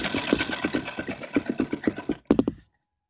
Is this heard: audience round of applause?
no